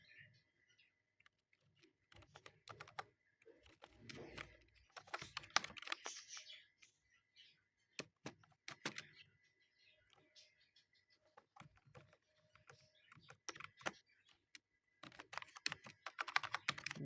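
Typing on a computer keyboard while writing Python code in VS Code: close bursts of quick key clicks with pauses between runs, fairly quiet, with no talk over them.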